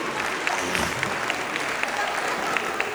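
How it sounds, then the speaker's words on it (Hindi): Audience applause fills a school annual function, a steady loud patter of many hands clapping continuously for a few seconds with faint crowd murmur. "जोरदार तालियां सभी पिता के लिए"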